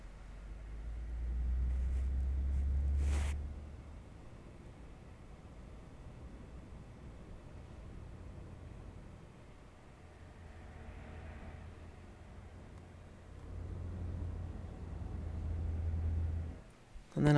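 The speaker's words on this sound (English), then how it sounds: "so that's around 600 RPM for those fans" SilverStone Raven 4 computer case fans spin at about 600 RPM, giving a faint, steady broadband whoosh close to the microphone, with a low rumble swelling briefly at the start and again near the end.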